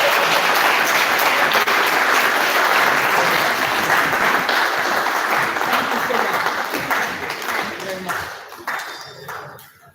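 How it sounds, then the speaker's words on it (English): Loud conference audience applause at a facility management association event, welcoming a speaker to the stage; dense clapping fills the room, then thins and fades out toward the end. "Join me with the rounds of applause as we welcome Ajia Zainab"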